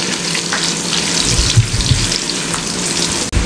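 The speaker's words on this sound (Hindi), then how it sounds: "ये मेरे पास एक दरमियाने साइज़ का, छोटे साइज़ का प्याज था, ये इसमें शामिल कर दें और इसको हल्का सा ब्राउन होने दें।" Sizzling of a small onion frying in hot oil in a commercial kitchen pan, a steady crackling hiss close by with no talk over it.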